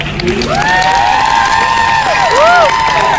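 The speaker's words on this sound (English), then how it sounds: "clap for her" A BookCon 2019 panel audience applauds and cheers for Christina Marie, with a steady wash of crowd noise and rising whoops and shouts over the clapping.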